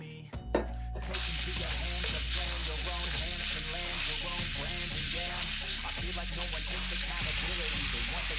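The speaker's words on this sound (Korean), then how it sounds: "팬에 먼저 오일을 두르고 숙성시켜놨던 고기를 팬에 올려서 구워줍니다" Marinated meat goes into an oiled pan after a brief clatter, then a loud, continuous sizzle holds steady with frequent scraping and stirring sounds, close up.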